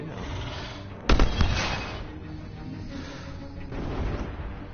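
Enemy gunfire in the VR shooter game Farpoint: a sharp, loud cluster of shots bursts out near the start, then trails into a lingering rumbling decay and steady background ambience.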